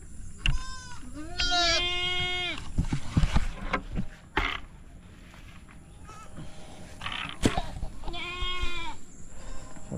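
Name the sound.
goat bleating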